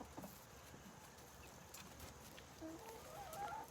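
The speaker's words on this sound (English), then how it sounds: "That chicken is limping." Chickens cluck softly outdoors on a farm in Georgia, a few short broken clucks growing slightly more frequent toward the end, fairly close, over steady background hiss and no talking.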